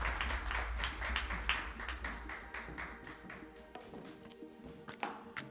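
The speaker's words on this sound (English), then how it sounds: "Can you please give him a big round of applause?" Audience applause at the 2021 South Africa AGOA Awards, with scattered claps and taps throughout, fairly close and steady, some sharper individual claps standing out.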